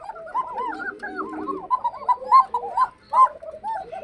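Many domestic pigeons in a loft, males and females calling together, fill the air with layered, rhythmic cooing that overlaps continuously, close and fairly loud.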